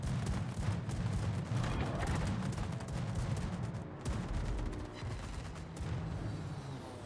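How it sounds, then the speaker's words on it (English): World of Warships battleship firing its 234mm secondary guns: a sustained, dense barrage of heavy booms and crackling gunfire, steady and loud throughout with brief dips between volleys. "These are 234mm guns, which is the largest secondary guns of any"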